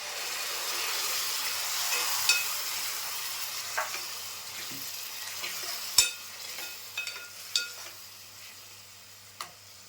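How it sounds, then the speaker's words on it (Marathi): Tomato puree sizzling as it is poured into a pan of onions fried until red, a steady frying hiss throughout with sharp pops and crackles. "तर आता मी ही टोमॅटोची प्युरी बनवून ठेवली ना, ती मी ओतते."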